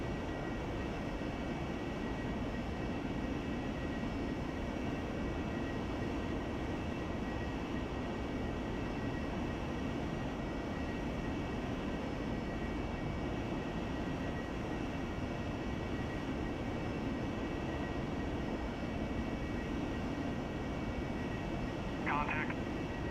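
Steady, loud jet roar from an AV-8B Harrier engine in the DCS flight game, holding position behind an S-3 Viking tanker during air-to-air refuelling, with a constant drone throughout and a brief chirp near the end.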